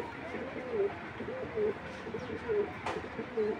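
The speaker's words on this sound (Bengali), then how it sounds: "আমি চলুন দোবাস কবুতর দুইটা একটু দেখাই।" Racing pigeons coo in a loft, several short soft calls spaced evenly, with someone speaking quietly over them.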